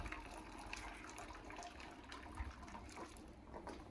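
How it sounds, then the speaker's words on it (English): Water trickles and gushes steadily at low volume as it drains from a crab boiler, a soft continuous draining sound with faint background noise. "Let the water drain."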